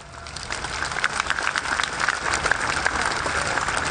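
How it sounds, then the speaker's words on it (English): A large crowd gathered in central Brussels breaks into sustained, thunderous applause, a dense wash of clapping that stays steady and loud throughout. "thunderous applause"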